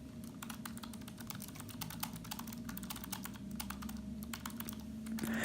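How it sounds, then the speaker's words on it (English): Typing on a Keychron K1 mechanical keyboard: a rapid, uneven stream of crisp close-up key clicks over a steady low electrical hum, with no speech. "It definitely sounds more like a mechanical keyboard than the chiclet style keys on the Apple Magic Keyboard"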